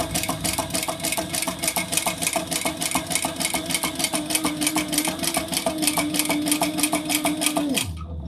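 Sewing machine stitching a quarter-inch seam, running in a fast, even mechanical chatter of needle strokes, close and steady, then slowing and stopping at the end.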